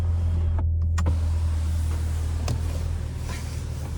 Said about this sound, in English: this is one touch sliding the roof back